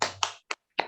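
A class of pupils does a quick rhythmic spirit clap, four sharp hand claps in a short patterned burst, close and crisp.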